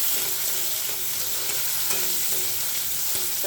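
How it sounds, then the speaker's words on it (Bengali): Large-cut onions and green chillies are stir-fried for noodles, a constant close sizzle with faint scraping of stirring throughout. "একটু হালকা একটু ভেজে নিই।"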